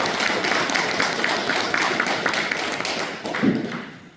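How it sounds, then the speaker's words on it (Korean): A room of supporters at a press conference announcing a candidacy for Damyang county head gives vigorous applause, a thick, continuous wash of clapping that holds steady and then tapers off near the end. "다시 한번 힘찬 박수 부탁드리겠습니다"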